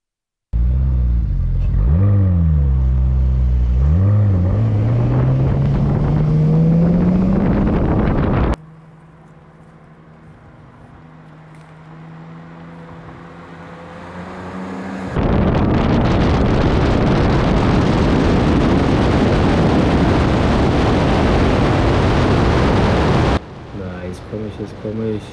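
Two Porsches, a 992 GTS and a GT3 RS, pull hard in a rolling drag race from 50, their loud engine roar and wind buffeting filling long stretches, with a rising engine tone early on and a quieter gap in between.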